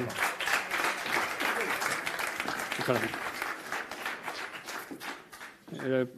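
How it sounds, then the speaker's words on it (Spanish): Applause from a conference audience at a technology round-table panel, steady dense clapping that fills the room with a few voices and a brief dog-like sound near the end. "Un aplauso."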